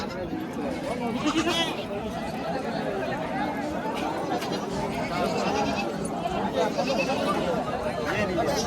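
Goats bleating repeatedly amid the busy chatter of a crowd at the Parbhani goat market in India, calls overlapping at moderate distance throughout.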